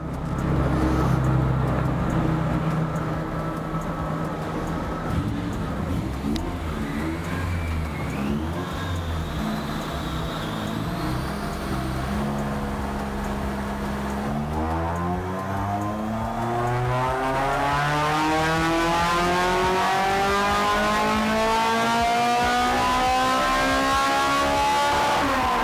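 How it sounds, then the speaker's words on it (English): A Honda Integra DC5 accelerates hard on a test run, its engine note rising steadily through the gears with sweeping harmonics, loud and close, with a sharp climb in pitch toward the end and no talking. "So Romain's just about to start the final run and see what it's going to do."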